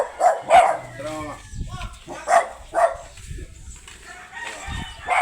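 Roosters crow several times nearby, with a dog barking and people talking in between.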